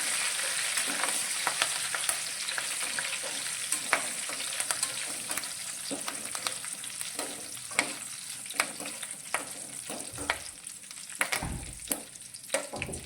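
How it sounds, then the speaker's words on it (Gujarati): Curry leaves fry in oil until crisp for a batch of poha chevda, giving a steady close sizzle with scattered sharp pops and crackles throughout, alone with no talking. "હવે અત્યારે આપણે થોડા મીઠા લીમડાના પાન લીધા છે તેને અને આ પાનને પણ એકદમ સરસ એવા ક્રિસ્પી થાય ત્યાં સુધી સાંકળીશું"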